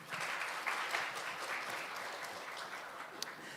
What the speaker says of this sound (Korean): 다시 한 번 더 박수로 한번 맞이해 주시죠